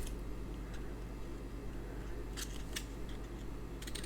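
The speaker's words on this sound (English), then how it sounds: "I'm just going to snip that bit off" Scissors snip the excess overhang from a handmade twisted-ribbon card of paper card stock during stamping crafts, a few short crisp cuts at about 2.4, 2.8 and 3.8 seconds over a steady low hum.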